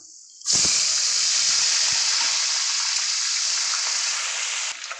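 Chopped onion hits hot ghee (clarified butter) with a sudden loud hiss that settles into a steady, bright close-up sizzle with faint crackles, holding for several seconds before easing slightly at the end.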